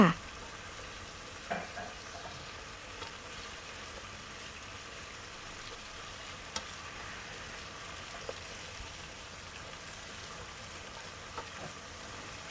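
Catfish pieces fry in oil in a pan, a faint, steady sizzling hiss that continues throughout with a few soft pops and clicks and no talking.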